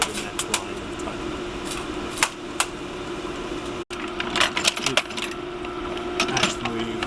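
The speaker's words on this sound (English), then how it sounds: "A knife is cutting off the slug that we just produced, and we're ready for the next line of type." A Linotype machine casting and trimming a line of type in a computer museum gives off a steady mechanical whir with repeated sharp metallic clicks and clacks, loud and close, with one abrupt brief dropout midway.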